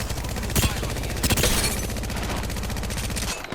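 Sniper gunfire in the Apex Legends video game, a rapid, continuous stream of close shots with a few heavier cracks standing out, ending abruptly.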